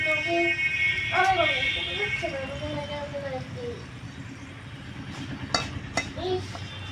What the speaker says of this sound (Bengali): শুকনো লঙ্কা হালকা একটু ভেজে নেব আমি প্রথমেই